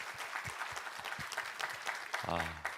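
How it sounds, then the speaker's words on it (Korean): Congregation in a Korean church service giving a moderately quiet, even round of applause, with a voice starting to speak as the clapping carries on near the end. "우리 하나님께 감사와 영광의 박수 올려드리겠습니다."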